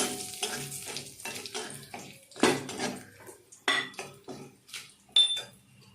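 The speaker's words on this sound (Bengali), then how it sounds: "শুকনো লঙ্কা, এলাচ, দারচিনি আর লবঙ্গ আর তেজপাতা দিয়ে একটু নেড়ে নেব।" A spoon scrapes and clinks against a pan as dried chillies, cardamom, cinnamon, cloves and bay leaf with cumin are stirred in hot oil, in a series of sharp close metallic knocks with faint sizzling between them.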